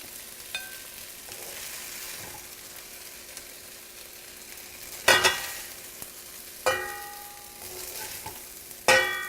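Quiet, steady sizzle of chicken frying in a skillet, with a few louder clanks and scrapes of utensils against the skillet.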